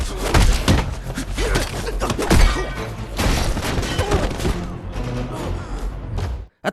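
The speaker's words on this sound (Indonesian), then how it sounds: "Wang ditembaki oleh Mr. Song membuatnya harus sebisa mungkin segera bersembunyi" Gunfire in a mafia action film scene, dense loud bursts and thuds layered with crashes and a score, continuous and close before ending abruptly.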